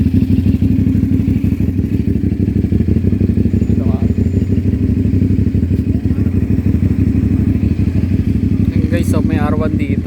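A Kawasaki Ninja 400 motorcycle idles and revs with a loud, continuous engine rumble at a motorcycle gathering, while people talk nearby throughout.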